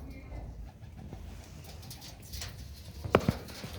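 Soft pigeon coos in the background, with a couple of sharper sounds near the end, over a low murmur of quiet voices.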